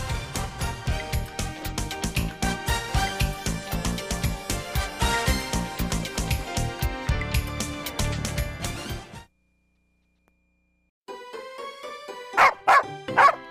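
Cartoonish dog barks sound in a theme-restaurant animatronic story showtape over bouncy rhythmic music. A short silence follows, then a few brief loud barks return over lighter music.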